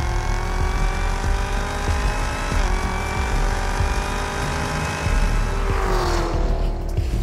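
A Chevrolet Camaro ZL1 with a 10-speed automatic accelerates hard, its loud engine note rising in pitch through successive quick upshifts, close and powerful with a deep rumble underneath.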